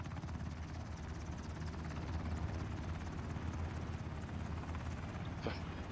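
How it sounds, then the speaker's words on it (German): Helicopter flying in the video game Ring of Elysium, a faint, steady rotor chop and engine hum running throughout in the distance, with little else over it. "guck mal, wo der Helikopter Ja, hinfliegt."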